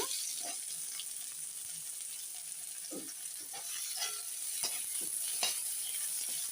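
Garlic and onion sautéing in a pan for capsicum fried rice, a steady broadband sizzle with scattered soft stirring scrapes, close and continuous with no voices.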